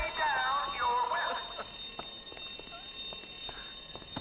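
A bank alarm rings during a robbery in the video game GTA V, a warbling electronic tone loudest at the start, then fading to faint repeated chirps beneath brief clicks and background noise.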